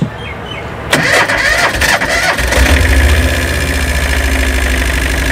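A used Tata mini pickup truck cranks with a short burst of starter whirs, catches, then settles into a loud, steady close-up idle with a low engine rumble.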